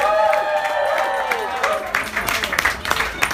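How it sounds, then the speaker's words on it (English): Wedding guests at a reception give a round of applause, scattered clapping that builds under a fading musical tone, with people talking nearby. "I think the chef, the waiters deserve a massive round of applause"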